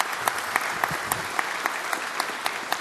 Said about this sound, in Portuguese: Eu peço a todos, nesse momento, uma salva de palmas especial ao deputado Stefanes por essa iniciativa